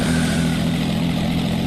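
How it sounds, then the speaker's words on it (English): A car engine in the racing game Project CARS 2 drones at a low idle as the car trundles slowly, a steady humming rumble that is loud and even, with no talk. "it's a weird noise that car has as it's trundling around"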